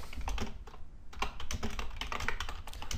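Rapid typing on a computer keyboard while writing a tweet, a dense run of close, crisp key clicks with a brief lull near the middle and no voice.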